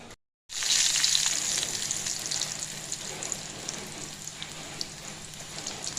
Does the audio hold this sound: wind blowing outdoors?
no